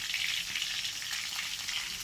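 Pointed gourd (potol) frying in a pan, a soft, continuous hiss of oil sizzling at moderate distance, steady and even without talk.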